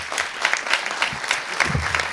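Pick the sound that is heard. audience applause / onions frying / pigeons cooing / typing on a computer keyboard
audience applause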